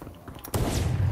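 Gunfire in Fortnite Chapter 5 Season 2, with a quiet lead-in and then a loud, sustained burst of booming, crackling shots that fill the second half.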